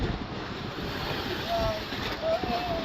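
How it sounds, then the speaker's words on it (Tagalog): Strong wind at sea buffets the microphone in a continuous rumbling roar, with faint surf-like wash underneath and no clear voices. "So maingay, hangin"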